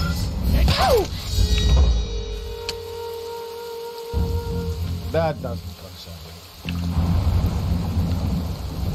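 Rain falls steadily in the Suganuma Village level of the stealth game Shadow Tactics: Blades of the Shogun, a constant hiss running beneath voiced character dialogue and a few sharp sound effects.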